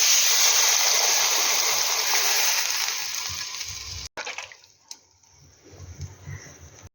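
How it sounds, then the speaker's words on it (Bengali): Water poured into a pan of gohona bori curry with salt, turmeric and chilli powder, a steady broadband rush lasting about four seconds, then cutting off to quieter faint clinks and low bubbling afterward. "একটু জল দিয়ে দেবো"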